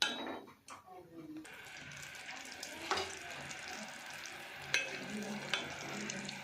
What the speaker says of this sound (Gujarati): આ ગોળ અને ઘી સરસ એકદમ પીગળી જાય અને એકદમ સરસ મિક્સ થઈ જાય એટલું આપણે એમને ગરમ કરવાનું છે.